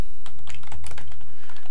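Close, steady typing on a Tandy Color Computer keyboard, a quick run of clicky keystrokes with no voices.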